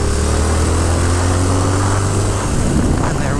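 A 2022 Triumph Speed Twin motorcycle accelerates hard in third gear on a country road, its engine a loud continuous roar with wind rush throughout.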